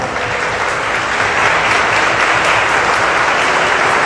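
A church congregation applauds together during a Sunday service, a steady, dense wash of clapping that fills the space evenly from start to finish with no talking over it.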